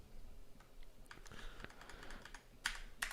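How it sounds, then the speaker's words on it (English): Someone types on a laptop keyboard in a quiet room: soft, uneven key taps with a few sharper clicks near the end, faint and close, no voices. "My keyboard is acting very strange today. Or my laptop, anyway."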